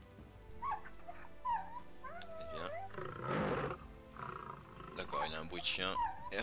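A dog barks and whines in a Minecraft Jurassic World mod, with a string of short, moderately loud yelps and wavering calls close up, alongside a voice.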